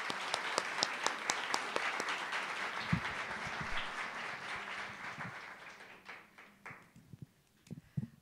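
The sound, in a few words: audience applause welcoming a speaker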